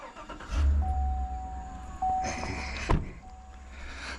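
An older Volkswagen Jetta being started, with the engine cranking and catching into a low idle, a steady tonal whine running through it and a few clunks and bumps near the end.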